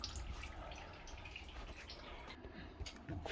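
Engine oil draining from a 2021 Seat Tarraco 1.5 TSI during a service, a steady liquid trickle and pour heard close and continuous.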